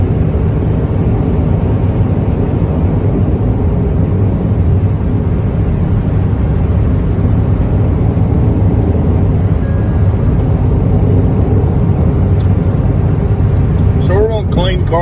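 A vehicle drives along a road past a truck, with constant loud road and engine rumble filling the whole stretch while someone talks over it.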